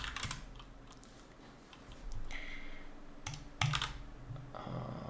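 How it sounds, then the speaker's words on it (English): Fast typing on a computer keyboard at a developer's desk, with bursts of key clicks separated by short pauses and a few louder taps, close and clear with no talking. "Oops, I cannot even type my own name."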